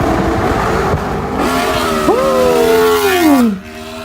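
A fast sport motorcycle doing stunts screams past, its engine roar rising and then sliding down in pitch as it passes close by and pulls away.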